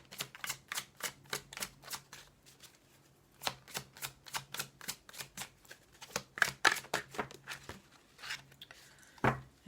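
Tarot cards riffled and shuffled by hand in quick rhythmic flutters, close and fairly quiet, with pauses between bursts and a few sharper slaps near the end as several cards drop.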